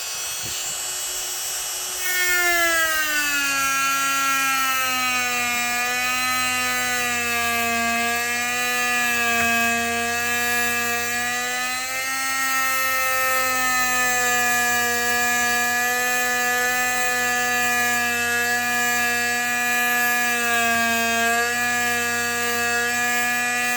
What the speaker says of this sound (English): Taking a Dremel tool beside this gun.